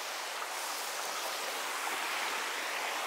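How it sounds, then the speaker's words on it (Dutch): A mountain river runs past in a steady, even broadband rush of flowing water, moderately faint and unbroken, with no voices. "Hier loopt de rivier."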